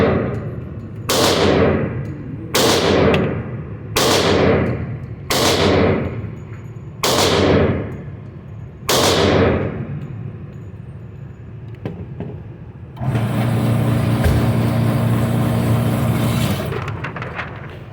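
A Rock Island 1911 pistol fires six loud, sharp single shots spaced about one to two seconds apart, each followed by a short decaying echo, then a steady broadband noise fills the last few seconds.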